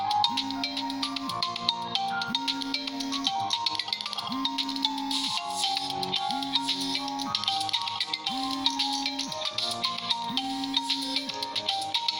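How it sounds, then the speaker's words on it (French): An incoming call's phone ringtone plays a repeating four-note melodic pattern over busy background music for about twelve seconds, with no one speaking. "Pour le moment, je peux pas te décrocher le téléphone."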